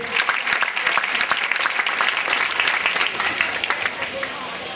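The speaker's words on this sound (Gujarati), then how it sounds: "દાનવીર દાતાઓને તાળીઓના નાદથી વધાવીએ" A crowd applauds the donors at a Swaminarayan temple idol-consecration festival in Vagra, with dense, sustained clapping throughout and voices mixed in beneath it.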